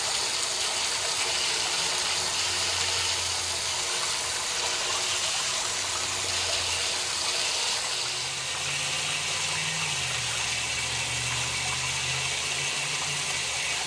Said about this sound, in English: what you're putting in at the time that you're pumping the water through the meter